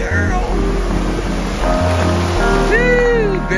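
Ocean surf at a beach, a steady rushing wash with wind noise on the microphone, while people talk and call out over it.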